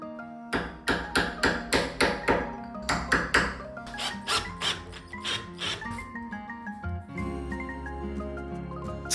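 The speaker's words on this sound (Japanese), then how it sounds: "これで蝶つがいの溝がはみ出さずにきれいに彫れます" A chisel is hammered through wood with a jig to cut a hinge mortise in a door. Around twenty crisp, close, mallet-on-chisel knocks come in quick bursts, followed by soft scraping and light taps, with no talking.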